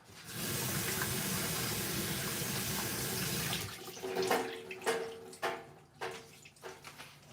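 Berries rinsed under a running kitchen tap: a steady broadband rush of water for about three and a half seconds, then the flow stops and gives way to scattered clatters and handling knocks.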